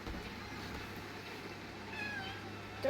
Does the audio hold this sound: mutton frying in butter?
no